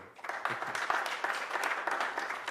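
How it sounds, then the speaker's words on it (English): A conference audience at an African social entrepreneurship event gives a round of applause, a fairly soft but continuous patter of many hands clapping, heard from a distance. "So one last round of applause for..."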